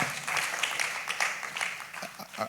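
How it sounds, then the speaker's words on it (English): Brief patter of audience applause at an oil and gas investment panel, moderately distant and steady for a couple of seconds. "A round of applause for him."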